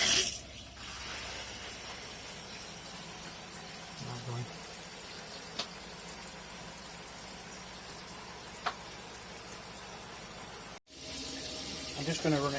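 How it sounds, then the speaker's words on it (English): Campervan shower left running to drain the onboard water tank: a steady hiss of spraying water fills the whole stretch, with a few faint clicks and a short break near the end, and a voice speaks briefly early on. "I'm just going to run it till the onboard tank's"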